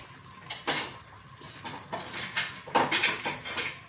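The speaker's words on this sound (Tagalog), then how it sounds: "Ihalo-halo lang natin to para hindi siya masunog." Latik, coconut curds, is stirred in a pan, with irregular metallic scrapes and clinks of a utensil against the pan over a soft background hiss.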